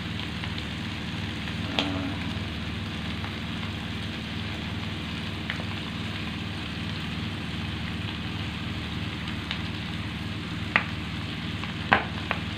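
Clams known as kerang lokan or kijing fry in a wok with bitter melon and petai, sizzling steadily and close up while a utensil stirs, scraping and clinking now and then.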